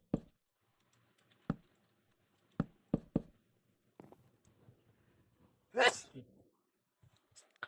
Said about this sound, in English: I've sneezed again.